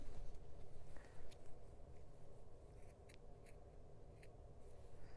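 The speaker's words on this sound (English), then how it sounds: "So you have to make sure that you cut in, but you don't actually cut the seam allowance." Scissors snip at the corners of a sewn half-yard fabric tote, giving several short, crisp cuts close by over a low background hum, with no talking.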